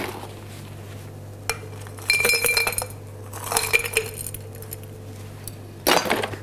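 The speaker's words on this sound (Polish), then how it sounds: "Wypełniamy szklankę lodem typu kostka." Ice cubes clatter and clink into a glass as a cocktail is built, in several bursts of rattling clinks, close and crisp over a quiet background.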